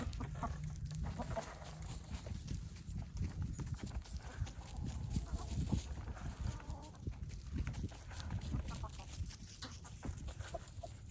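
Chickens cluck steadily as they hurry toward a treat of black soldier fly larvae, with scratchy, shuffling movement and constant outdoor background noise underneath.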